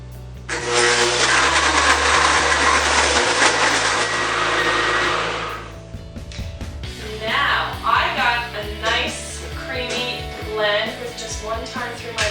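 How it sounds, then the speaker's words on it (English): A kitchen blender whirs loudly for several seconds as it purees a green smoothie of kale, cucumber, lemon and berries, then stops and a person talks over lingering background sound. "One time through my blender"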